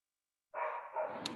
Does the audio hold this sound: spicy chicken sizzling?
no